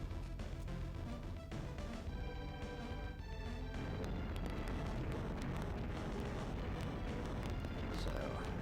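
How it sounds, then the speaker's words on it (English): Lava explosions in Golden Sun: The Lost Age rumble on as a dense, continuous roar of blasts and booms with no breaks, under steady game music. "Some nice explosions going on."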